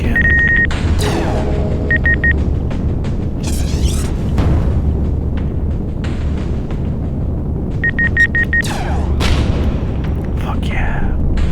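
Heavy cannon of the Hunter in its heavy configuration firing in the space video game Quintet, booming shots with electronic beeps over a constant loud engine rumble, someone talking at times.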